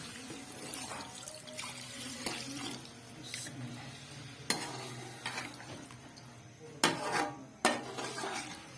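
A spoon is slowly stirring fish in a metal pot, making soft clinks and scrapes with a faint bubbling underneath and a few sharper knocks of metal on metal.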